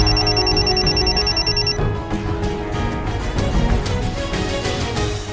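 A telephone rings for an incoming call, a bright electronic trill repeating at first and then cut off, followed by a busy, loud background mix.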